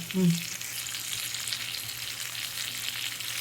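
Sardines fry in a covered pan over a low flame, giving a steady, even sizzle throughout with a brief louder clink or scrape near the start.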